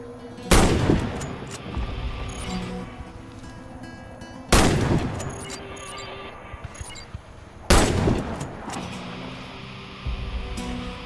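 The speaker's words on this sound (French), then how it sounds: "Touchez toutes les cibles avec votre fusil de précision." A sniper rifle firing at training targets in the Warface game, three loud booming shots spaced a few seconds apart, each followed by a decaying tail and faint mechanical clicks of the bolt between shots.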